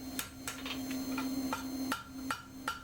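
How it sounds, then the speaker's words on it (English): The flat face of a hammer strikes a horseshoe about eight times in an uneven rhythm. Each blow gives a sharp metallic ring over a steady low hum. "Swapping from the rounded end to the flat end of the hammer."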